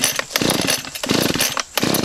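Loud chainsaw engine revving close by, rising and falling in two or three quick bursts.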